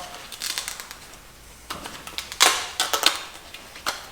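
Scissors snipping out the plastic strainer screen from a paint gun cup, a series of sharp close clicks and crinkly cuts, irregular and loud, with a brief crackling tear near the middle.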